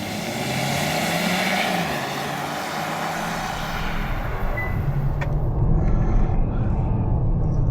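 A 2024 Hyundai Kona's turbocharged engine pulls steadily under acceleration, a loud, sustained drone with a low rumble that deepens and swells toward the end as revs build.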